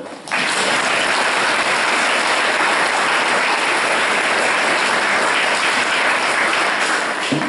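A church congregation at Mass in Cléguer claps for itself in a dense, sustained round of applause. It starts abruptly and holds steady and fairly loud, with no voices on top.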